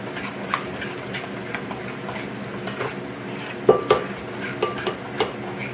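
Split egg being stirred in a bowl for a reduced-sugar strawberry cake, with light clinks and taps of a utensil against the dish, louder scraping knocks near the end, and no talking.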